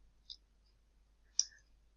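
A computer mouse clicks twice in a quiet room while working in Microsoft Excel, two short, faint, separate clicks about a second apart.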